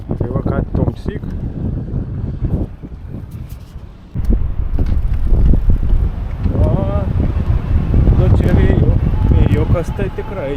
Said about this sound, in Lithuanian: Vėjukas tai tikrai yra prie vandenį.